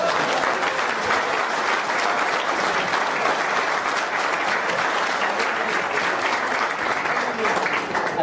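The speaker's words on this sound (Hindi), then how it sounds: "वो लोग अपने जोरदार तालियां बजाइए।" An audience at a meeting in Goa claps loudly and continuously, a dense, sustained applause from a crowd with a voice faintly beneath.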